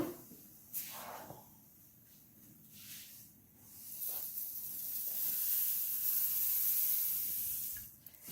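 Marshmallows dropped into a hot pan with the heat just switched off give a steady sizzling hiss that swells and crackles for several seconds, close and fairly loud, with no talking.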